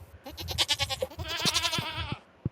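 Goats in the farming game Stardew Valley bleat repeatedly, with several wavering, nasal calls in quick succession, fairly loud and close, ending with a short thump.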